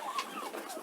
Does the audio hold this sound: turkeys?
yes